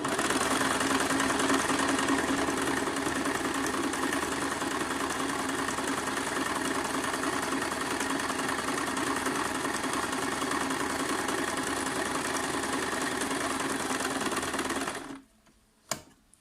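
A Singer Tradition 2263 sewing machine hums and clatters steadily for a long stretch of simple stitching, loud and close, then cuts off near the end leaving near silence with a small knock.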